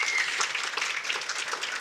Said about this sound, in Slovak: Ďakujem pekne, veľký potlesk.